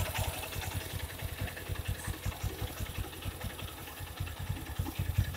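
A 2016 Honda Hornet 160R BS4 motorcycle idles after carburetor tuning, a quiet, even, rapid pulsing thump with light mechanical clatter, close and alone.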